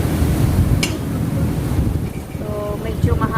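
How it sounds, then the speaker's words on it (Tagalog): Wind rumbles and buffets the microphone in gusty low roars by a condominium pool area in Quezon City, Philippines, with faint voices and brief sounds in the background. "So, medyo mahangin. Mahangin dito sa Pinas."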